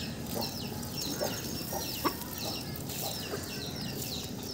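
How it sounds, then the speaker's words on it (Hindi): Several chickens clucking softly nearby while feeding, scattered short calls over a steady background hum, no talking. "ये देखें जी खाने लग पड़ी हैं मुर्गियाँ।"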